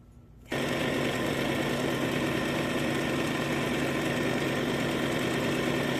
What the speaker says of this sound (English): I'm gonna sew along this line and this line.